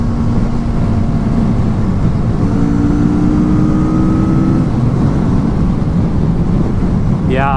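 A 2016 Kawasaki Vulcan S motorcycle cruises at 70 mph in 4th gear, its steady engine drone mixed with heavy wind rush, loud and continuous with a brief rising pitch sweep near the end.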